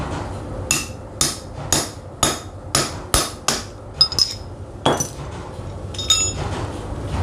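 Sharp metallic hammer blows strike about a dozen times in a steady rhythm, close and ringing, as a bearing is driven into a water pump, with a few lighter clinks near the end.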